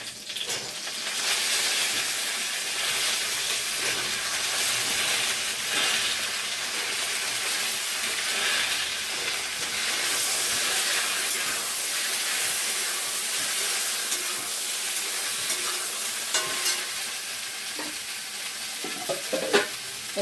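Drumstick (sajna) pieces fry in hot oil alongside potatoes, a continuous close sizzle with scraping stirs and occasional spatters, growing busier toward the end.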